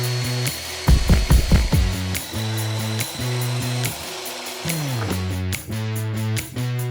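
A Parkside power tool running on a round wooden rod clamped in a small block, a steady tonal motor whine with a burst of harsher grinding early on and pitch dips as the load changes, close and fairly loud.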